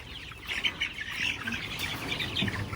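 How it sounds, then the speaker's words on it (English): Young chicks in a grow-out pen chirp in a continuous cluster of high, thin peeps at moderate distance, fairly faint, with no talking. "Maybe there's a bird outside."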